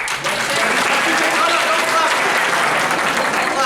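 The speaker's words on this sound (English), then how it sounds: "Random clapping there?" Audience at an anime convention panel with Jujutsu Kaisen voice actors, Kawacon 2025, breaking into loud, dense clapping that holds steady and close throughout, with crowd murmur mixed in.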